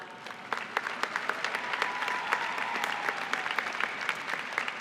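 A graduation audience at a university diploma and awards ceremony claps steadily for several seconds, a dense, even patter of many hands, moderately loud and sustained throughout.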